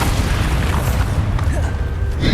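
A Bombarda explosion spell in the Hogwarts Legacy video game erupts in a loud, close, sustained booming rumble with dense low-end blast noise throughout.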